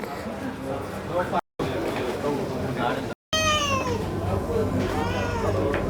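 A pregnant cat meows a couple of times nearby while people talk over it in the background, with brief dropouts in the sound.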